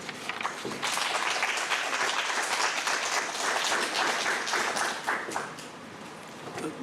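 An audience at an afternoon session with university business students breaks into clapping, a sustained patter of many hands heard from a little distance, swelling quickly then tapering off softly near the end.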